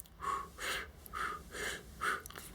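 A person demonstrates tense, constricted, shallow breathing: five short, rhythmic breaths, each a hoarse, airy puff, close to the microphone and with no talking.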